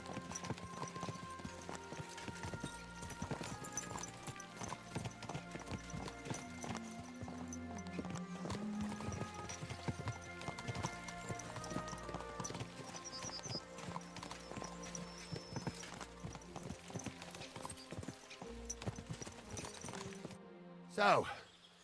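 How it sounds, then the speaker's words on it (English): Rhythmic clip-clop of horse hooves at a steady trot while riding in the game Kingdom Come: Deliverance II, continuous under music-like tones, with a brief louder thump near the end. "Is this your first time riding a horse?"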